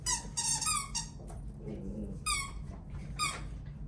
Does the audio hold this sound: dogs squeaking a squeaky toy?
yes